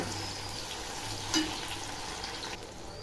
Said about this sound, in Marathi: आता टोमॅटो टाकते टोमॅटो चांगला असा तेलामध्ये परतून घ्यायचा